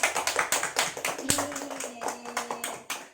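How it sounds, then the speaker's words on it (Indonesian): A small group claps in a steady rhythm during a classroom learning session, with a moderate level and one sharp knock partway through. "Kita beri tepuk tangan yang meriah"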